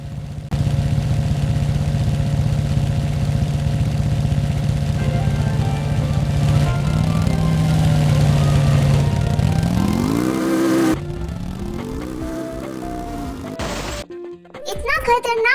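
A motorcycle in Sakura School Simulator holds a steady, loud engine drone, then revs up with rising pitch before cutting off abruptly and giving way to other game sounds.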